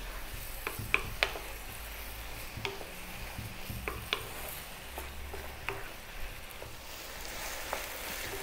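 Onions frying on medium heat with salt and black pepper give a soft, steady sizzle, broken by scattered light ticks of a spatula stirring the pan.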